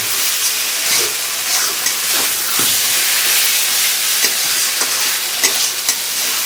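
Potatoes frying in oil in a pan in a home kitchen, a loud steady hissing sizzle broken by short scraping stirs, close up and without talk.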